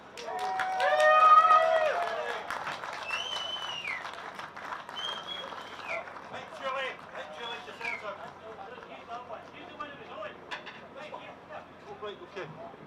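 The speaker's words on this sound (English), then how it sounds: "I think Julie deserves a big round of applause for sticking around all that time." Crowd applause at an outdoor Scottish independence march in George Square, Glasgow, loud cheering and clapping peaking early then settling into steady clapping, with voices and whistles mixed in.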